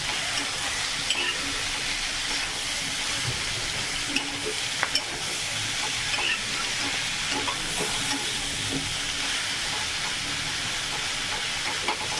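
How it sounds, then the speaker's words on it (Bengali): Radish and fish swim bladder fry in fish oil in a pan, giving a steady, close sizzle with occasional stirring scrapes and faint crackles that runs unbroken throughout. "সুন্দর করে ভাজা ভাজা একদম লাল লাল করে ভেজে নেব"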